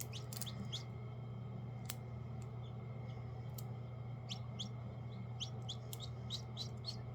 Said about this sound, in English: Right now I've had 2 baby chicks hatch.